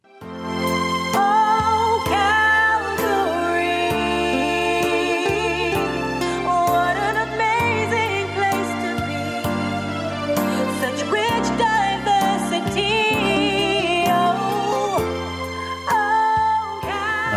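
A new anthem written for Calgary plays over the radio as a full, loud, continuous song with sustained harmonic melody lines and steady rhythmic accents, running without talk until a brief dip near the end.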